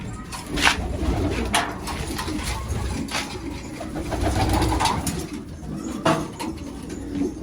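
Pigeons coo steadily from a loft as the birds are prepared for release, low throaty calls layered over one another, with wing flaps and bright clicks breaking through at intervals.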